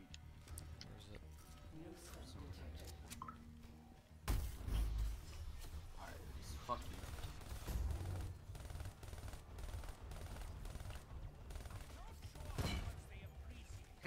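Gunfire against a Mangler in Black Ops 3 Zombies on Gorod Krovi: a quiet stretch gives way to a burst of heavy shots and rattling impacts, with repeated sharp cracks continuing at moderate loudness.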